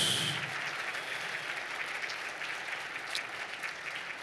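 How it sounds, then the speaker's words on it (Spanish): A church congregation applauds in worship, sustained crowd clapping that is fairly quiet and even throughout, with the room's reverberation behind it. "Dale un aplauso otra vez,"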